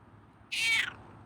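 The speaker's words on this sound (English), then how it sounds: "Got a nice meow there." A feral cat gives a single clear meow, about half a second long, close and fairly loud over faint room noise.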